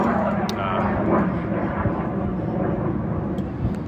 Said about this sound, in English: Or maybe that jet plane just sounds like a jet plane.